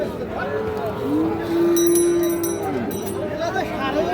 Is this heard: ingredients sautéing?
no